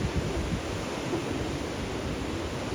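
Big ocean waves roll in at the Hilton in Waikoloa, Hawaii: a loud, continuous wash of surf with a heavy rumble of wind against the microphone, steady throughout and without speech.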